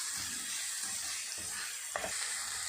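Ingredients frying in a pan on high heat for a rice noodle dish, a steady soft sizzle with faint stirring scrapes and a small clink near the end.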